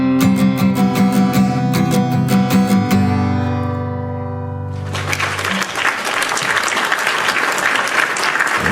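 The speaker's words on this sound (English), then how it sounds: "That is a round of applause." A podcast audience breaks into loud, dense applause for comedian Paul Foot, starting midway after a stretch of musical tones and continuing steadily to the end.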